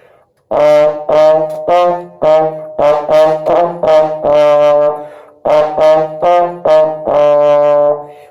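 A trombone plays a quick run of short, separated notes rising and falling in pitch, clear and close with no talking.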